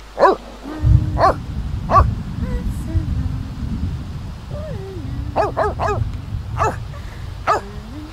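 A dog in The Sims 3 barks in short repeated bursts, with clusters of quick yips and a whimpering edge, close and fairly loud over a steady low game background.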